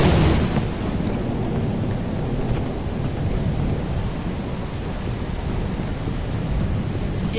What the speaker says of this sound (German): Explodiert einfach alles.